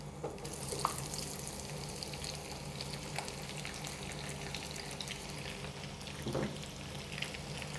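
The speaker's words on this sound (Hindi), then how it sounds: "अब इस वाइट ऑयल में हम अपना चॉप किया हुआ प्याज डालेंगे।" Chopped onion frying in white cooking oil, a faint steady sizzle with a few soft stirring clinks, heard close and alone without speech.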